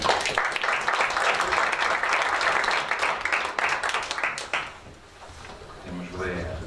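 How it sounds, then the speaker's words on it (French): A municipal council meeting audience claps for several seconds in a dense, steady patter that fades out. A voice then speaks at close range. "Je crois qu'on peut applaudir."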